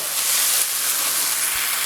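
Tomatoes sautéing in a pan for Chettinad-style prawn thokku give off a steady, loud sizzling hiss that stays even from start to finish, with no talking over it.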